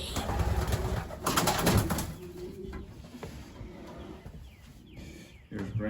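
Racing pigeons coo softly and intermittently in a loft, with rustling, handling noises and a few louder bursts of movement and faint background talk.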